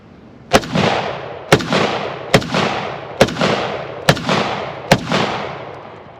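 Six sharp, loud shots ring out from a Ruger Mini 14 ranch rifle with a wood stock at an evenly spaced steady pace, each followed by a rolling outdoor echo.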